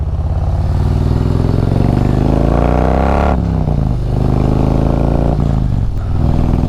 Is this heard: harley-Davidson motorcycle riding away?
yes